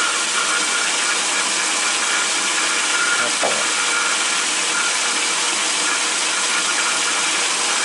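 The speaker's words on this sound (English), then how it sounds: "Turn the lathe on." An Atlas 10-inch metal lathe runs with a loud, steady whirring hum that holds unchanged throughout. A voice speaks a single brief word near the middle.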